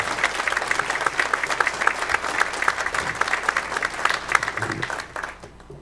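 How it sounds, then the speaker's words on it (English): Audience applause at a Fairfield County, Ohio legislative update, steady dense clapping from a seated crowd that carries on for several seconds, then thins and fades out near the end. "Let's give Lieutenant Governor Taylor a quick round of applause again"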